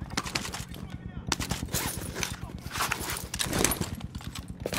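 Rapid bursts of gunfire crackle in close, uneven volleys throughout a Call of Duty: Modern Warfare firefight, with sharp repeated shots piling over each other and voices mixed beneath.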